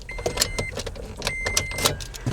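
A car or truck passes near an outdoor spot in the woods, with a short burst of engine and road noise mixed with clicks and rustles close to the recorder.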